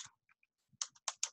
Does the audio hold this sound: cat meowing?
no